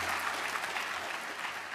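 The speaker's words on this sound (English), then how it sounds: "that's worth a round of applause" Dense, steady applause from a large audience at a college in-service gathering, even and sustained, heard slightly distant and fairly soft.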